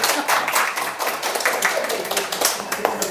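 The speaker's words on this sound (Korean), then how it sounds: "자, 박수 한번 보내주세요." Audience applause at an aromatherapy lecture on rolling aroma-oil pens, a steady wash of many hands clapping close by through the whole stretch, with no break and no other voices.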